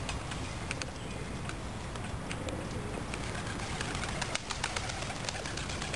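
A flock of pigeons gives soft, continuous low cooing, faint and somewhat distant, mixed with scattered quick ticking and fluttering clicks, with no voices.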